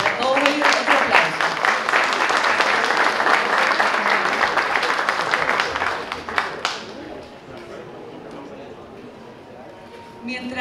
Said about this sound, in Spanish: Para todos ellos, otro aplauso.